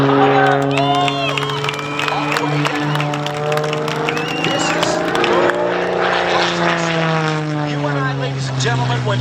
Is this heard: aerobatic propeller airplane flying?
yes